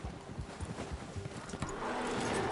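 Horse hooves clip-clop in a steady, close rhythm of repeated thuds, giving way near the end to a steady rushing noise.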